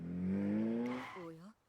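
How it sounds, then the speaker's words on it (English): A loud car engine from the Umamusume: Pretty Derby game revs up in a rising whine, then eases off and drops away, with a voice talking briefly near the end. "The engine this loud can only mean..."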